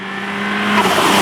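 A 411 bhp Ford Sierra Sapphire Cosworth turbo engine revs close by, a loud, rising roar with a whooshing turbo spool that builds over a brief moment.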